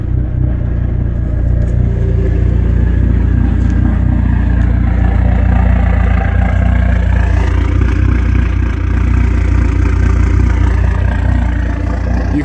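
A Dodge SRT4 engine runs at a loud, steady rumble from up close, with a faint turbo whine barely above the continuous engine drone.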